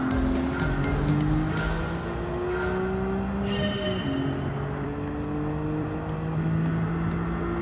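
A four-wheel-drive race car in the video game Gran Turismo 7 drives at speed, its engine rising and dropping through gear changes with occasional tire squeal, steady and close throughout with no voices.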